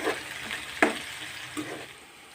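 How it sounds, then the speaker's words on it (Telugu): Onions and green chillies frying with curry leaves in a pan for a chana dal cabbage curry, a soft steady sizzle with a few brief stirring scrapes. "ఉల్లిపాయలు పచ్చిమిర్చిని దూరగా వేయించుకోవాలి"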